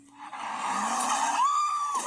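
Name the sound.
car tires skidding while doing donuts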